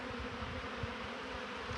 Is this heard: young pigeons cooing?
no